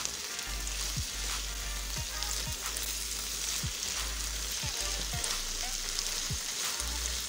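Keema, spiced minced meat cooked with whole spices and onions, fries in a pan with a steady, close, dense sizzle, broken by occasional soft scraping knocks from stirring; no talking.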